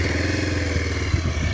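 A 2026 Bajaj Pulsar 180 motorcycle engine runs at a steady, close idle, a thick low thrum with fast regular pulsing and a slight clattery edge.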